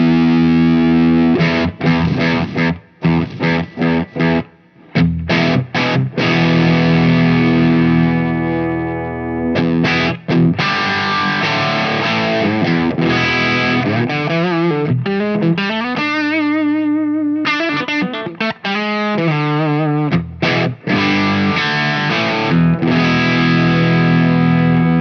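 An electric guitar plays through an overdrive pedal with the gain turned down, giving a mildly distorted, sustained tone in loud strummed chords and riffs with brief pauses, no voices.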